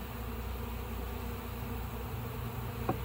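A swarm of honeybees buzzes around beehives, a steady droning hum filling the air with a brief soft tap near the end and no talking.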